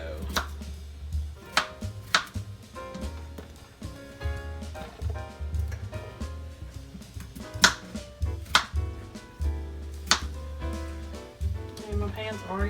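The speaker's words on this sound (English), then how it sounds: "So just try to cut them up best you can." Knife chopping potatoes for roasted red potatoes, heard as irregular sharp cuts on a board with a low steady hum underneath, close and moderately loud.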